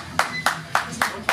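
Audience claps for a competitor at the Karpatský medveď 2024 strength event: five loud, sharp, evenly spaced claps close by, with a faint voice underneath.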